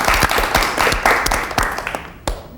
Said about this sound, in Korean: 예, 박수 같이 칠게요.